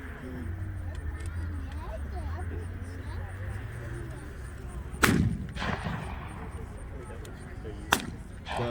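Blank gunfire at an outdoor WWII battle reenactment, two sharp distant cracks a few seconds apart over a low rumbling vehicle background, with a voice talking throughout.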